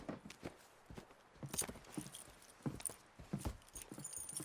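Horse hooves clip-clop in a steady walking rhythm in Red Dead Redemption 2, close and fairly quiet, the irregular thuds of a ridden horse plodding over ground with no talk.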